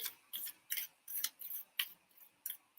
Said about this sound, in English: sticking in the majors wherever I feel like into the deck and then shuffling